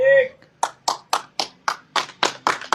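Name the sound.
people clapping to encourage a man in a challenge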